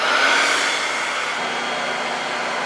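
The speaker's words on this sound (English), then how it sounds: "And the hair dryer." A hair dryer runs alongside a hot plate, toaster and microwave on a Jackery 5000 Plus power station, giving a steady, loud, even blowing whir with no breaks.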